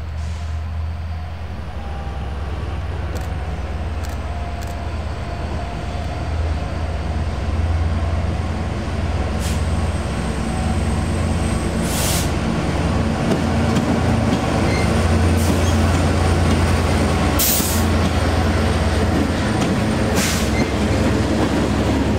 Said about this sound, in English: Today's job is powered by a Norfolk Southern slug set.